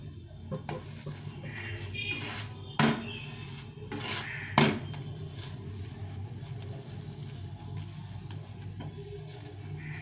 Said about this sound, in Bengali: এখন আমি বাকিগুলো ভেজে নেব